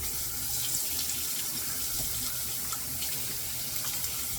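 Water runs steadily from a tap into a sink for shaving with a straight razor, a continuous close hiss and splash with small drips and clinks, no talking.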